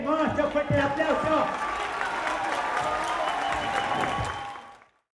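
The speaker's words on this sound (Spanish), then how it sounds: "¡Hermoso, fuerte el aplauso!" Applause from an audience at an event marking 50 years of social work, dense and sustained over loud chanting and cheering voices, fading out at the end.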